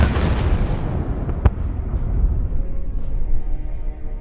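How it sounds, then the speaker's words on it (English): Heavy aerial bombs strike a village in combat, heard as a dense, loud rumbling roar of blasts and debris with a sharp crack near the middle, continuous and close, with no talk. "From their bays, heavy, deadly bombs fall. The village turns into a field of fire and smoke"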